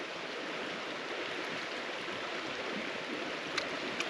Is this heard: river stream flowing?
yes